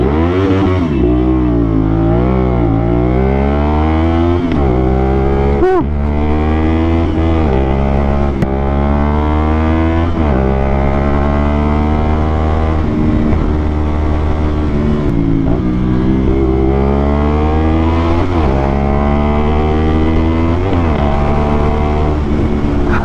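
A Kawasaki Z500 SE or CFMOTO 450NK motorcycle exhaust sounds loud and close while riding, its engine note rising and falling through repeated gear changes over a continuous strong drone.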